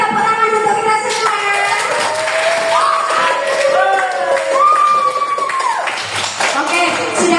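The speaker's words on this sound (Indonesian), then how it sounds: "Tepuk tangan untuk kita semua" Classroom students clapping and shouting together during a lesson, a loud lively burst of claps mixed with children's voices and a teacher talking over the noise throughout.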